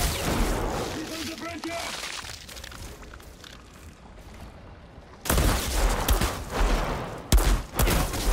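Gunfire in the video game Outriders, with bursts of shots and sharp loud cracks that come in clusters after a quieter stretch of game ambience.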